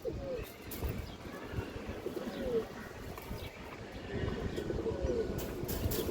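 Several pigeons at a pigeon seller's collection, including working male birds, give low, repeated coos at moderate distance over a steady background murmur.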